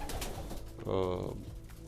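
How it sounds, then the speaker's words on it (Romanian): Pigeons in a loft give one soft, low coo, close by and in the middle of the clip, between quiet background sounds. "cei 2 porumbei care n-au boxe primesc și ei puțină hrană"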